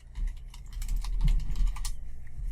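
Rapid, steady keystrokes on a computer keyboard while keyboard shortcuts are entered during graphic design work, clicking continuously and close up for the full stretch.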